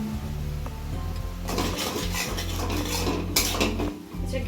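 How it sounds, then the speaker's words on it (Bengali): Spice masala with turmeric, Kashmiri chilli, cumin and coriander powder sautéed in oil in a pan, a steady close clatter and scrape of stirring over a constant low hum, with no voices. "অল্প একটু গরম মশলা আমি এখন দেবো, মশলাটা কষাচ্ছি"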